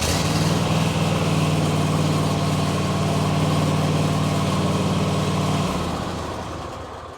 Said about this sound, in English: We're gonna go ahead and start it up real quick.